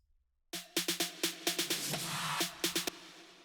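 A short electronic drum fill: a burst of sharp, stuttering hits over a sustained tonal hum, with a brief swell in the middle, ending suddenly.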